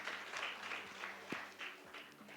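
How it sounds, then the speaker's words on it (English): Audience applause at a real estate conclave, a steady patter of many hands clapping at moderate distance. "Please welcome him with an applause"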